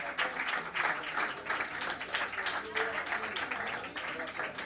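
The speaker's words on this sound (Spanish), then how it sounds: "un aplauso bien fuerte para él" Concert audience applauds as a performer is welcomed onstage, a full, fluttering burst of clapping with voices and cheers mixed in, lasting several seconds.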